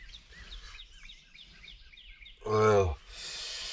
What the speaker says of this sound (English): the birds are going crazy right now